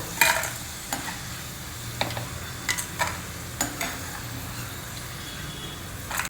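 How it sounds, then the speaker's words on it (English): Yam pieces fry in hot oil with a low steady sizzle, punctuated by regular sharp clicks and taps of a utensil against the pan, close and moderately loud, with no talking. "Similarly, fry the remaining yam also."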